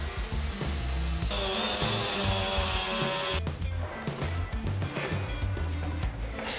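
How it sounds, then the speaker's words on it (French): A plastic tank riser extension is cut along its marked line, giving a steady, close rasping and grinding that changes pitch partway through. No one speaks. "Découpe l'extension de rehausse en suivant le trait prévu à cet effet."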